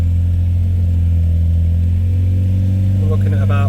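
A Volvo 940 engine, fitted with oil pressure gauges, holds a loud, steady low rumble from close by and then starts to climb as it is revved toward 3000 rpm.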